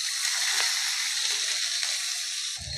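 Onion paste fries in hot oil for a prawn malai curry, giving a steady, close, bright sizzle that hisses without a break and dips slightly at the very end.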